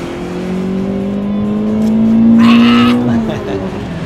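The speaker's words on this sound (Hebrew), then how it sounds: "איזה רכב, איזה מנוע, איזה מנוע, איזה רעש" Peugeot 207 engine revving under way, a rising tonal drone that climbs steadily in pitch and loudness before easing off, heard from inside the car with a brief burst of higher hiss near the peak.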